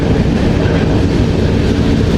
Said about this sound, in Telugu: శ్రీకాకుళం నుంచి తిరుపతి దాకా మొదటి రైలు అయితే ఇదే